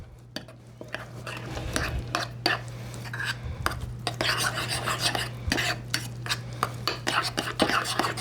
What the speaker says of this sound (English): Now we're just going to stir it all up.